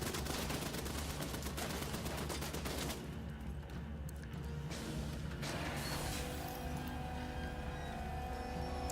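Turrets fire in The Division 2 during an invaded map mission: loud sustained automatic gunfire in rapid bursts, a short lull, then renewed shots and impacts ringing out.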